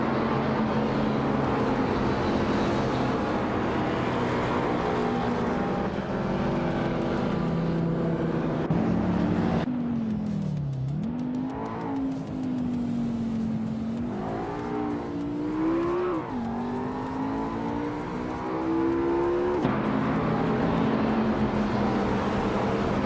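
Racing cars' engines in a video racing game roar continuously at close range, with pitch swooping up and down through gear changes and revving, the whine rising and falling several times across the run.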